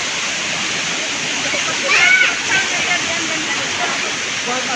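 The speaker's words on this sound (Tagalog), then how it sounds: "Ayan, Mahogany Falls." Steady, full roar of Mahogany Falls in Barangay Conchu, Trece Martires, Cavite, a constant rush of falling water heard up close, with brief voices rising over it midway.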